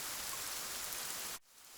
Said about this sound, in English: and it begins to rain.